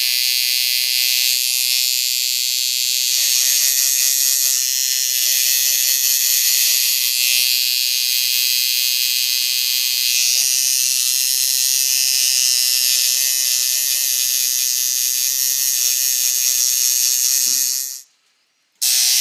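A tattoo machine fitted with a big needle fills in an area, producing a loud, steady, close mechanical buzz that runs without letup before cutting out abruptly near the end.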